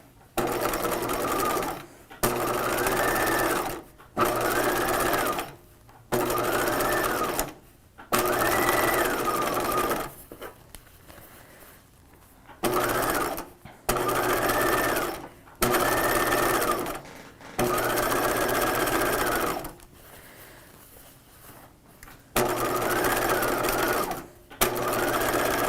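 A domestic sewing machine stitches a 1950s shelf bust dress lining, whirring in repeated short bursts of a second or two with brief gaps between, close and moderately loud.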